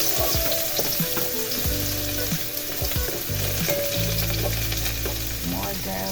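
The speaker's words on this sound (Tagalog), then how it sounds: "Maglagay na tayo ng oil. Lagay na natin ang ating garlic." Garlic frying in hot oil for corn soup, a loud steady close sizzle with occasional stirring scrapes, continuous throughout.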